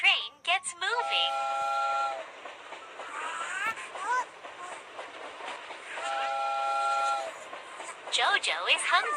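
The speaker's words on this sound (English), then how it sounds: "Choo-choo! The little train gets moving." A toy train moves along with repeated electronic whistle toots and chugging, fairly near and moderately loud. A voice or playful chatter comes between the toots.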